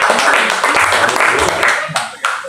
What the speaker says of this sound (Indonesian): Mari sekali lagi tepuk tangan bagi Tuhan.